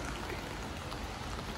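Steady rain falls outdoors on a street, a dense continuous patter of drops filling the whole stretch at an even, moderate level with no voices.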